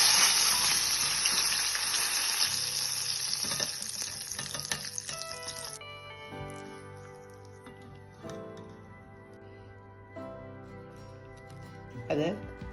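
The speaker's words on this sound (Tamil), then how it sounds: "ரெண்டு பக்கமும் திருப்பி விட்டு பொரித்துக் கொள்ளுங்க" Paneer 65 fries in hot oil with a bright, loud sizzle that cuts off abruptly midway, followed by quieter clinks and handling sounds while someone speaks.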